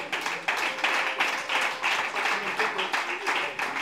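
A church congregation claps in a steady, fairly quick rhythm while acclaiming the Lord, the sharp claps carrying under voices and singing.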